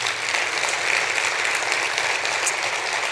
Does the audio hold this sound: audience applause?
yes